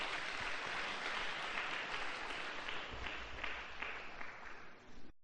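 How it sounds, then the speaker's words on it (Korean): A church congregation claps to welcome its senior pastor, sustained dense applause filling the room at steady loudness for several seconds, tapering slightly toward the end. "우리 큰 박수로 담임 목사님을 환영했으면 좋겠습니다."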